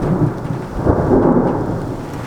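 Thunderstorm with hail beginning during record summer heat on the road, heard as a steady loud roar of rain and rumbling thunder throughout, with no voices.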